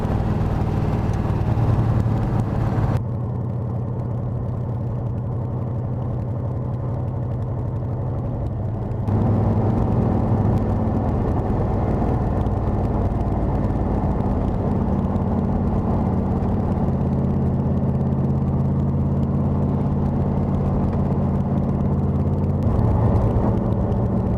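A 1966 Chevrolet Corvette Stingray big-block V8 runs steadily for the whole stretch, a loud deep rumble with a shifting low throb as the idle rises and settles, heard alone with no talking.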